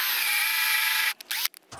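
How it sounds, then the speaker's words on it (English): A power drill pre-drills holes in timber for a solar panel ground mount, a loud, steady high whine running over a second before cutting off, followed by a few short bursts and stops. "I'm gonna pre-drill and mount this"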